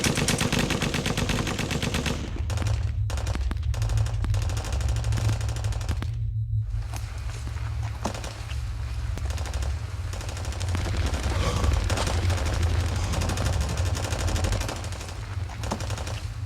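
Sustained machine-gun fire in a war film roars loud and close, with dense rapid bursts running almost without pause and one brief gap early on; no speech is heard.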